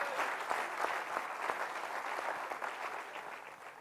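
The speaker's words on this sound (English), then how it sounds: "can you give both these people another round of applause" Audience applause at an India training event, a steady wash of clapping from a sizeable crowd, moderately loud and continuous without pause.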